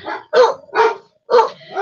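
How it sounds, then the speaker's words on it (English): Dogs indoors barking in short loud bursts, four sharp barks with brief gaps between them, close to the listener. "the dogs have heard something 42 miles away"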